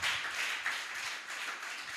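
A summit audience in a hall keeps clapping, a thin, fairly quiet patter of applause that carries on evenly, with no voices over it.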